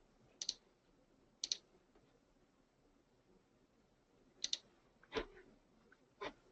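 Sharp, quiet computer mouse clicks in a quiet room, single and double clicks spaced a few seconds apart, close and crisp.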